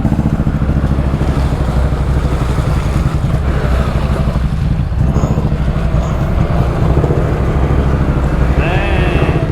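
A loud ATV engine roars continuously while driving off-road in four-wheel drive, a dense, close drone with little variation. A short whine rises right at the end.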